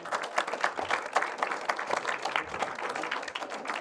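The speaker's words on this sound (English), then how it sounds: "we can applaud that" Moderate audience applause at an awards festival screening, a busy steady patter of many hands clapping throughout.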